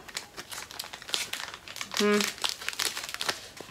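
Crinkly plastic packaging sealed with tape rustles and crackles in close, uneven bursts as it is opened by hand, with a brief squeaky tone partway through.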